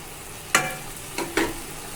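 Washed mushrooms tossed into masala in a pan for a restaurant-style mushroom dum biryani, giving a few short scraping stirs against low background hiss, with no talking.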